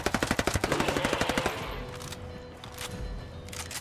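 Rapid automatic gunfire in Ghost Recon Wildlands, a fast burst of about fifteen loud close shots in the first second and a half, then fading into a quieter ambient tail.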